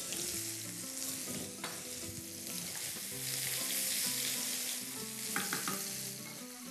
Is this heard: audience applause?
no